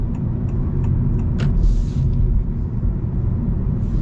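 Low, steady road rumble inside a moving 2026 Honda Civic Hybrid, with a smooth engine hum and faint tire noise; a few light clicks and a brief hiss.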